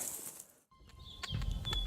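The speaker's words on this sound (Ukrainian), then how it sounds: "Шумить вітер, пташки співають." Faint bird calls sound outdoors in the Carpathian mountains, a couple of brief chirps and thin whistled notes over quiet background noise of wind and old trees.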